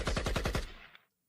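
A gunshot sound effect: a rapid, loud burst of about six shots in quick succession, then a short fading tail and silence.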